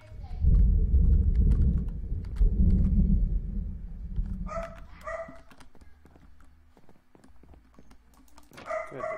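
A dog barks in short bursts at a distance, heard under a loud low rumble and a man's speech, with a couple of sharper barks near the end.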